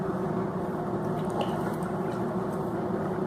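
Water pours steadily from a home water-filter machine, a continuous close, fairly loud liquid stream lasting several seconds with faint splashy drips and no talking.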